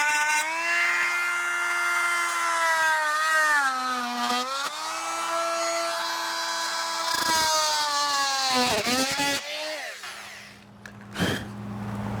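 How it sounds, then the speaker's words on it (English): A power drill runs loudly and continuously, its pitch dipping and wavering as it bites into material on an RV, then winds down near the end. "I might just drill a center hole right here and then do a big hole"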